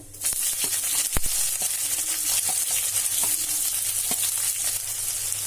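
Long-sliced onion sizzles steadily in hot oil with urad dal and cumin for a vegetable palya, with scattered clicks of stirring over a continuous crackle.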